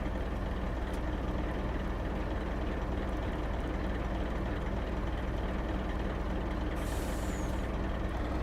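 Truck air brakes in Farming Simulator 25 on a snowy farm: a steady engine rumble with a sharp hiss of released air near the end, no voices.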